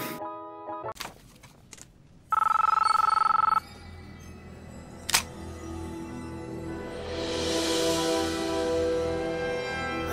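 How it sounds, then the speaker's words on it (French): A phone rings for an incoming call as a single steady electronic tone lasting just over a second, preceded by a few clicks and followed by quieter background noise. "je reçois un appel"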